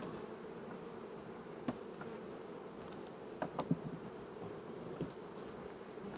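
Honeybees hum in a steady, dense buzz close by inside a hive, working on the upper frames, with a few brief clicks and knocks rising over the continuous drone.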